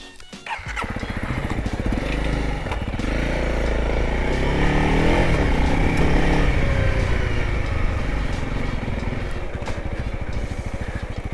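A Honda CRF300L dual-sport motorcycle fires up and rides off, its single-cylinder engine close and loud, thumping steadily as it revs and gathers speed.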